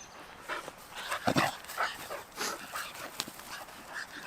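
Dog giving short yips and whimpering cries in uneven bursts, fairly close, with scuffling movement between the sounds.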